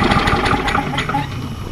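Propane-fuelled lawn mower engine sputtering as its gas supply is cut, a rapid uneven chugging that loses rhythm and winds down over a couple of seconds.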